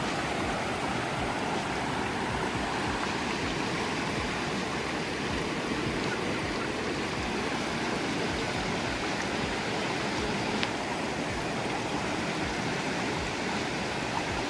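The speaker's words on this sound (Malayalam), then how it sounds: "വെള്ളം വളരെ സൗണ്ടിലാണ് വന്നുകൊണ്ടിരിക്കുന്നത്" Loud, continuous rushing water of a fast stream in Kerala roars without pause, a dense broadband wash close by.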